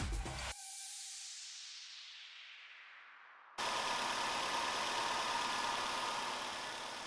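A 2008-2012 Nissan Altima engine with a newly installed alternator and serpentine belt runs steadily nearby, a constant idle hum with no voices, after a brief click and a fading tone.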